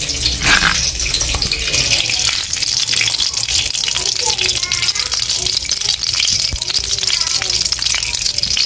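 Semolina roasts in hot ghee in a kadhai, giving a steady close sizzle and crackle with stirring scrapes throughout and no talk.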